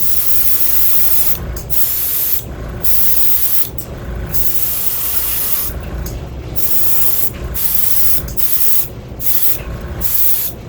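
Fluorescent red paint is sprayed on in a third and final coat, a loud continuous hiss broken by brief gaps as the spray is released and pressed again, close by with no talking.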